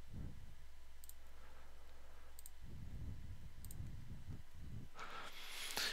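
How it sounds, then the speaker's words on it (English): Faint computer mouse clicks during a software installation, a few sharp isolated clicks spaced over several seconds against a low hum, with soft rustling in between. "So you click yes, click next, obviously click accept"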